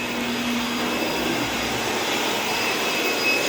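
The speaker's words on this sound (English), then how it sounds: "She's vacuuming the floor." A vacuum cleaner runs across a floor with a loud, steady, close-up roar and hiss that holds level throughout, with no pauses and no voices.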